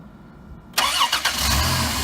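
A Dodge Caravan's engine cranks briefly after a battery change, then catches and settles into a steady, close idle, loud and clear with no talking.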